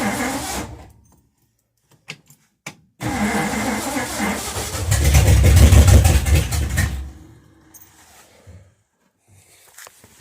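A 1960 Ford Galaxie Sunliner engine cranks in short bursts, then catches and runs loudly for a few seconds with a deep low rumble before cutting out, leaving near-silence with faint background sounds.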